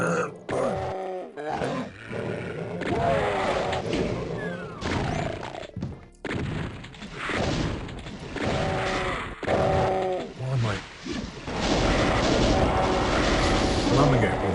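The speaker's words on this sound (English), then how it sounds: "Slumming it with a shotgun when I could be blasting with a plasma." A shotgun fires in the classic Doom video game, loud blasts repeating amid grunting monsters, crashes and roaring game noise over a chaotic stretch, with a brief quiet gap early on.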